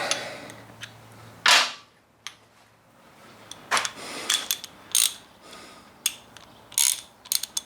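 A big ratchet and socket are picked up and handled in a workshop during motorcycle fork repair. Scattered sharp metallic clicks and clanks sound close and irregular, one loud clatter early, over a faint background hum.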